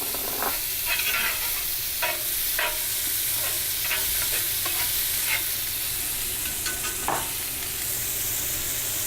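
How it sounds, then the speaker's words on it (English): Finely diced onion sautéing in a pan on the stove, with a steady loud sizzle and hiss throughout, punctuated by brief scraping stirs, and no talking. "Now I'm going to add half an onion, finely diced, and we're going to cook that out."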